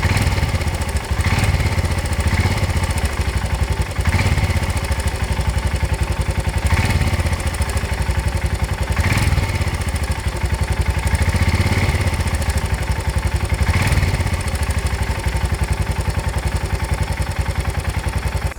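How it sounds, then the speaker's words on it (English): A Royal Enfield Himalayan 411 single-cylinder engine fitted with a TEC camshaft idles close by with a steady throbbing chug, and a light, constant clicky tappet clatter runs through it, with faint periodic surges. "the only con that I've noticed is a clicky tappity noise coming from the engine"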